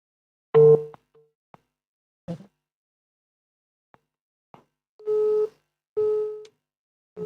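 A telephone gives repeated call tones while dialing a number again after declined calls; several separate steady beeps sound with silent gaps between them, each tone lasting under half a second, with a few faint clicks between.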